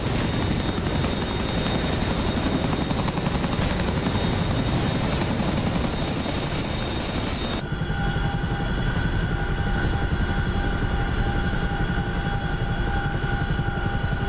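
Rotors of a Chinook helicopter in a video game throb in a steady, dense beat that carries on without pause and then shifts to a thinner, more distant tone partway through, with no talk.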